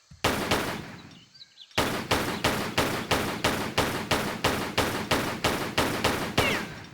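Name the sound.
enemy gunfire in video game Tomb Raider 3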